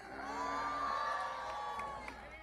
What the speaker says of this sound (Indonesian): Tepuk tangan untuk Mbak Ika.